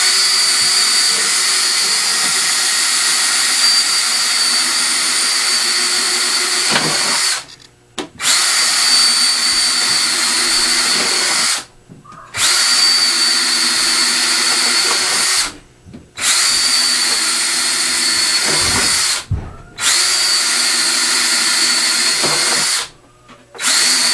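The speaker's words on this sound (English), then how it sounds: "I now will start drilling my holes in the back of it" A power drill bores holes into the back of a homemade wooden mink box, running in loud sustained bursts of several seconds each, separated by short pauses, with no talking.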